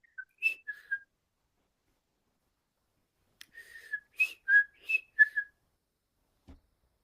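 A person whistles an imitation of a meadowlark song in short, clear phrases, a brief burst first, then a pause, then a longer run of sliding notes.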